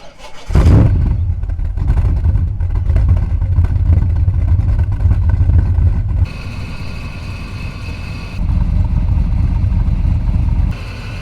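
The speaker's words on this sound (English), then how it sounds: "So the main event with this car is just the noise." A deep, throaty modified V8 car engine roars and revs up loudly while driving. It then settles into a droning cruise with gear changes and a rising whine, close and continuous.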